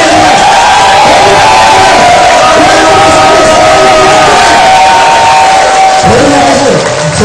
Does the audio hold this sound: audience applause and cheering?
yes